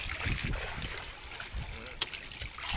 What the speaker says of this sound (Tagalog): Lakas ng hangin par.